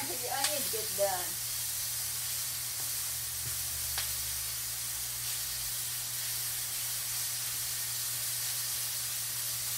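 Onions frying in bacon grease in a pan, a steady close sizzle and hiss holding evenly throughout, with a brief voice murmur near the start and a faint clink later.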